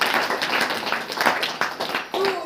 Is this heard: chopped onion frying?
no